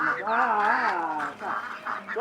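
Ducks kept on a Zimbabwean farm quack in a close, loud run of nasal calls with short pauses between them.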